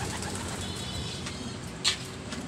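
Homing pigeons cooing softly in a loft, low murmuring coos running steadily through the whole stretch with a brief flutter near the end.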